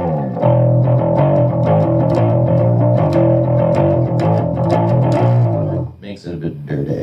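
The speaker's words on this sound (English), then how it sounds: "Touch of overdrive onto the bass." Electric bass played with a touch of overdrive, a dirty, gritty sustained line with steady plucked notes running loud and close for about six seconds before fading into a brief tail.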